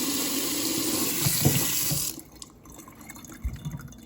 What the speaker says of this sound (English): We're back at the sink, and all we're going to do now is just rinse.